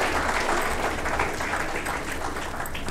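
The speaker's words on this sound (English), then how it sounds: "this they surely uh, deserve one more round of applause, so I expect you all to do that." Sustained applause from an audience at an Indian Merchants' Chamber event, a dense, steady patter of many hands clapping close and loud for about three seconds with no talk over it.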